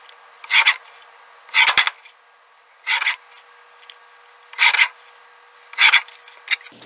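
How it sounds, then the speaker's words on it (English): Scissors cut paper into 1-inch strips for rolled tube beads in five separate crisp snipping bursts, each about half a second long, spaced roughly a second apart, close up with quiet pauses between. "I'm just going to cut 1 inch, and these will be 1-inch tube beads."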